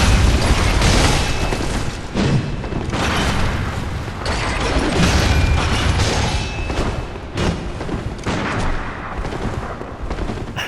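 Beastcutter transformation attack in Bloodborne, heard as dense, loud mechanical clanks and heavy booming impacts in a continuous rush of combat noise with no pauses.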